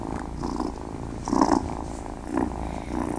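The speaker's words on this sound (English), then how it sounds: "The cats purr." Cat purring plays from the Moonly app, a soft steady rumble that swells in slow rhythmic breaths, close and fairly quiet, with no talk over it.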